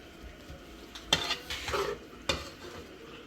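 Chowmein tossed and mixed with ketchup, with a few distinct scraping clinks of a utensil against the pan or bowl over a faint background sizzle.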